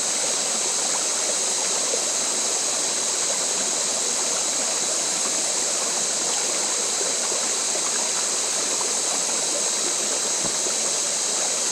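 Flowing stream water outdoors, a loud, dense, continuous rushing and gurgling wash that stays steady throughout, with no voices.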